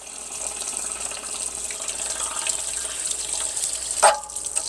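Water spits and hisses steadily out of an RV's Suburban water heater tank, a continuous sputtering rush with a brief louder burst near the end, heard close with no talking.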